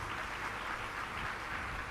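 A crowd at a devotional religious gathering claps in a broad, continuous wash of applause honoring Lions Club members, even and sustained without audible speech.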